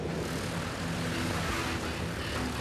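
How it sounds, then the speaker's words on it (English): Steady, droning roar of a 1930s airliner's propeller engines running in flight, heard from inside the cabin, continuous and even with a low throbbing hum and no voices. "The engine's just chugging along nicely. They sound very smooth, very strong at the moment."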